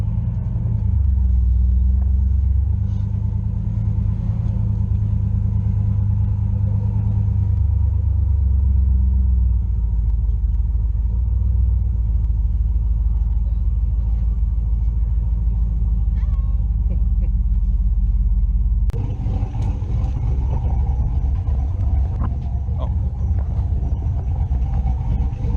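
A turbocharged Chevrolet C10 pickup fitted with a cheap $40 exhaust drones steadily while driving, a low continuous engine rumble that shifts character partway through, with faint voices in the cab.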